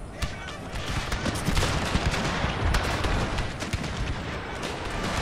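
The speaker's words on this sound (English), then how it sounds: "Looks like they're setting up to fire at him." Musket volleys crackle in a Total War battle set in the Thirty Years' War, a dense, continuous rattle of many overlapping shots with distant cannon-like booms, steady and fairly loud throughout with no clear pause.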